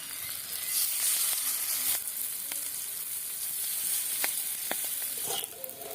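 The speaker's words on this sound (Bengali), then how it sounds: "বাকি যেগুলো ছিল ভেজে নেব একইভাবে।" Fritters of wild helencha greens fry in hot oil with a loud, steady sizzle, broken by occasional clicks and scrapes of stirring close by.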